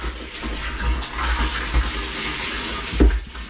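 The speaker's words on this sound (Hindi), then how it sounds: "तो पानी भर रहा है" Water gushes from a pipe connected to a new borewell and fills a tank at a home, a close, continuous rushing flow with a few louder thumping surges, with no talk.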